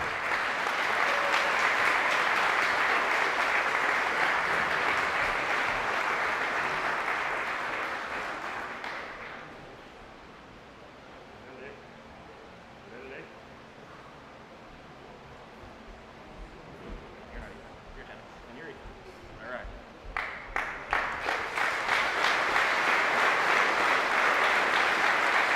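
Audience at a school moving-up ceremony applauds in loud, dense clapping, then the crowd quiets briefly before the clapping swells again to a full roar near the end.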